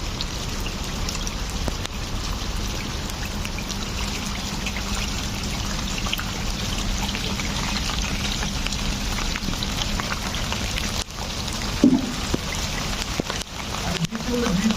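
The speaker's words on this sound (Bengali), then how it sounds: "বৃষ্টি পড়তেছে।" Rain falls steadily on a green rooftop garden with a dense, continuous patter and trickle that holds even throughout, plus a couple of faint knocks near the end.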